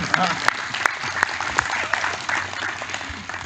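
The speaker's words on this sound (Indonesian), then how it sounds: "Tepuk tangannya hanya 3 orang" Audience clapping at a religious lecture (ceramah) by KH. Reza Ahmad Zahid, a dense patter of many hands with sharp louder claps at regular beats, steady over several seconds and mixed with faint crowd noise.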